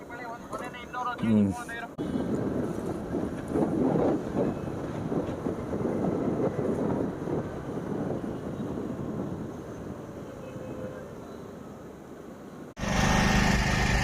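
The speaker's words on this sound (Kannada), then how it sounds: "ಈಗ ನಮ್ಮದು ಇಲ್ಲಿ ಜನ್ರೇಟರ್ ಸ್ವಲ್ಪ ಸೌಂಡ್ ಇದೆ ಅದರಿಂದ ಸರಿಯಾಗಿ ಕೇಳಿಸಲ್ಲ" A generator runs steadily near Devanahalli airport during a long scooter ride, a continuous mid-pitched engine drone with wind noise, preceded by a short burst of other sound and ending in a louder cut.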